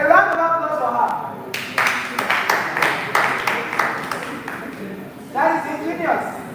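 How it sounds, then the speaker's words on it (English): A round of applause at a live playhouse performance: a few seconds of scattered hand clapping between stretches of a speaking voice. "A round of applause for her."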